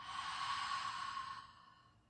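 A single long, deep exhale through an open mouth during a yoga breathing exercise, a steady breathy whoosh that is close and fairly loud, fading out over the last second.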